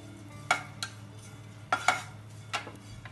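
Metal spoon scraping and clinking against a pan while grated coconut is stirred and roasted, a few distinct sharp clanks spaced apart over a low steady background.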